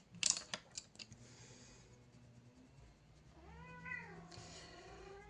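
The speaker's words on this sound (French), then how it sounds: "Mon bébé chat arrive." A pet cat meows indoors, a few clear, rising-and-falling calls near the end after some faint clicks and rustles, with no talking over it.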